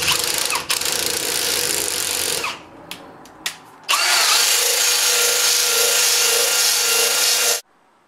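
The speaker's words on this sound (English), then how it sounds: "Now I'm jumping to the flap wheel" Flap wheel with 120 grit grinding the steel of an axe, a loud continuous abrasive whine that stops briefly with a few short bursts, then runs steadily again before cutting off.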